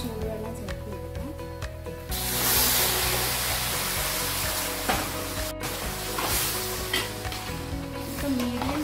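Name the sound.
boiling hot water added to dalda and vegetables in pan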